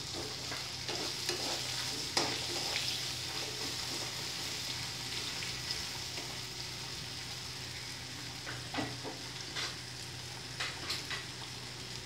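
Potatoes fry in a pan with curry leaves for sabudana khichdi, a soft steady sizzle with stirring scrapes and occasional clicks, fairly faint and without voices.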